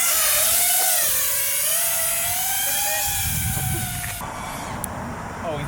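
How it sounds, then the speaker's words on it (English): A 5-inch FPV drone on a test flight makes a loud, continuous whine of high-pitched motor and propeller tones that rise and fall steadily, then becomes quieter and more distant. "We're gonna do a test flight with the 5-inch real quick."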